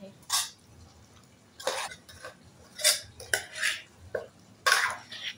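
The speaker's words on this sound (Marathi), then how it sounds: "आता आपल्याला हे छान प्रकारे मसाल्यामध्ये मिक्स करून घ्यायचं आहे।" Chicken is mixed with masala in a bowl, heard as about six separate bursts of a spoon clinking and scraping against the dish, with quiet pauses between them.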